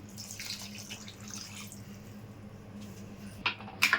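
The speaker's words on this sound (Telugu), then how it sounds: "ఒక గ్లాస్ వాటర్ పోసానండి" A glass of water pours and splashes into a pot of chicken egg gravy in an uneven stream, followed by a few sharp clinks near the end.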